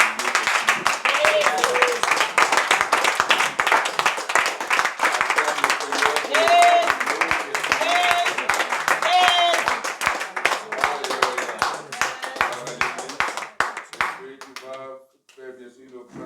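A church congregation claps in acclamation to the Lord, brisk sustained rhythmic clapping mixed with voices and singing, fading out near the end as a few words are spoken.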